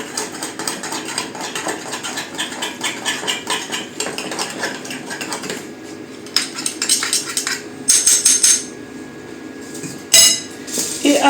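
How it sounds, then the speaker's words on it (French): Spoon stirring a small amount of oil into ingredients in a bowl for a roast: steady close scraping and clinking of utensil against the dish, with a few louder knocks near the end, no voice. "On va remuer."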